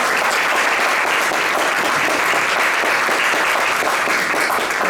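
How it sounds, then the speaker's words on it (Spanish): A large audience applauds a former minister introduced at a panel discussion, dense and loud continuous clapping filling the whole stretch without pause. "Por favor, un aplauso para Luis Miguel."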